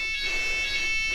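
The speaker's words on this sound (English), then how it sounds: "the fire alarm just went off in our hostel" A fire alarm sounds inside a hostel, a steady, loud electronic tone with stacked high pitches that holds without a break for a little over a second, with no voices over it.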